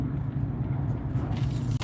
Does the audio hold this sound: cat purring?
no